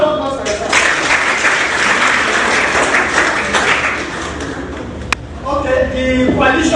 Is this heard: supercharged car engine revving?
no